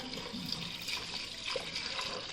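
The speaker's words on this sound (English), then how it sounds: "Now I am going to add the water which we get from the horse gram." Horse gram cooking water pours steadily into a cooker, a continuous splashing stream close by with no talking.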